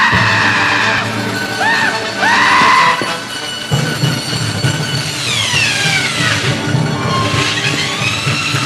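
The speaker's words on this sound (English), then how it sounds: "As soon as the bandsaw hits this guy's head, his screaming stops instantly." A horror-movie kill in which a bandsaw cuts into a man's head while he screams, with loud strained yelling and whooping cries over a grinding mechanical roar and a heavy bang, then a long rising-and-falling metallic whine.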